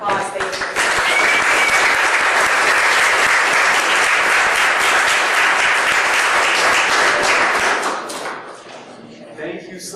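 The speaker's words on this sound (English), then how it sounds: "So please give them a round of applause." Attendees at an Oregon Grower's Association meeting give a loud, close round of applause for the speakers, dense clapping that swells, holds for several seconds, then tapers off into a few scattered claps and room noise.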